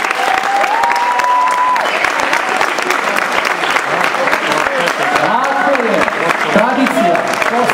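Sustained applause from a festival crowd at a Serbian fantasy film festival, dense and loud, with voices calling out over the clapping.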